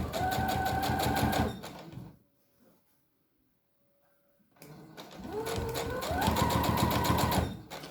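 A sewing machine stitches bias binding along the edge of fabric for a brush roll, running loud and close in a steady buzz, stopping for about two seconds, then running again with speed changes.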